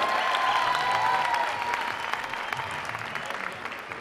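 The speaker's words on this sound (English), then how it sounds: "On applaudit bien fort un à ma gauche, s'il vous plaît." An audience at a hip hop dance battle applauds the dancer on the left, a broad wash of clapping that is loud at first and gradually thins and fades over four seconds, with cheering faintly mixed in.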